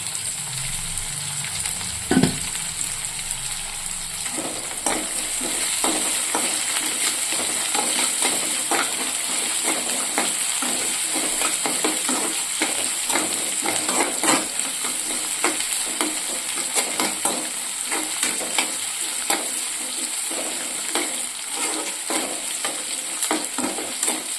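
Curry leaves and spices sizzle and spit in hot oil in a frying pan, a steady loud crackle with frequent sharp pops and a brief stirring clatter near the start.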